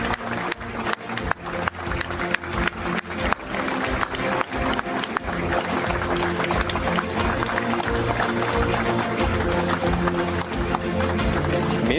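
Mourners applaud as the body of former Vasco president Eurico Miranda arrives at the Nossa Senhora das Vitórias church in São Januário at night, sharp scattered claps building into dense, sustained applause.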